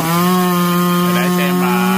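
Chainsaw cutting down a Phoenix tree outdoors, a loud, steady high-revving engine drone held throughout with slight pitch shifts as the chain bites into the wood.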